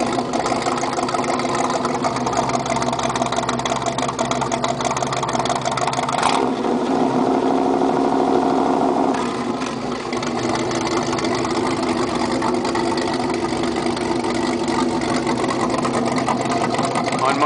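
A 1982 GMC step side pickup idles through a new full exhaust with skull tips, a steady loud rumble that swells slightly mid-way, with talk faintly underneath.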